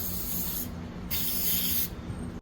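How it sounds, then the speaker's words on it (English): Shellac sprayed onto a mid-century furniture piece in close, steady hissing bursts, with two long sprays separated by short pauses. "spray 3 coats of shellac."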